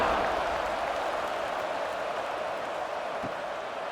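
Steady, distant stadium crowd noise at a Clemson versus North Carolina college football game in College Football 26, a continuous roar of cheering before a kickoff with no distinct voices.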